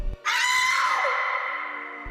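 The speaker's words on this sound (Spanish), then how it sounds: "el sonido no fue de un cristal rompiéndose, sino el de un estridente grito de mujer" A woman's shrill, sustained scream rings out loud and close after a brief gap, holding high and piercing before slowly fading over about two seconds.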